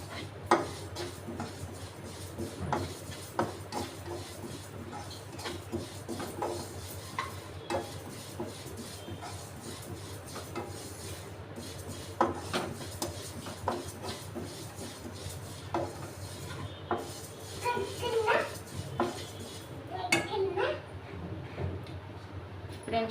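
Sesame seeds fry and are stirred in a pan for bitter gourd pulusu, giving a steady low sizzle broken by frequent scraping clicks and taps from the spoon, close and moderately loud, with no talking.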